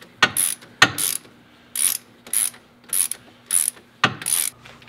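Ratcheting clicks in short bursts as the four hub bolts are tightened on a Subaru Legacy during a rear wheel bearing replacement, about eight close, crisp ratchet runs with brief pauses between them, no talking.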